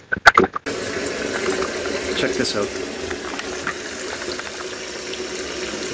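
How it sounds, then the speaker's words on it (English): Water runs steadily from a household tap that is splitting into several streams, a continuous broadband hiss and splash that follows a brief spoken remark and fills the rest of the clip. "Turn it on and it's coming out in like four different streams, which is normally not how it comes out."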